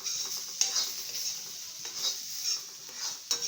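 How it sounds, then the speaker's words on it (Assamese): Potatoes frying with salt in a pan, a bright hissing sizzle that swells and eases with stirring, with occasional sharp scrapes of a spatula against the pan. "নিমখ দি মই অলপমান ভাজিম।"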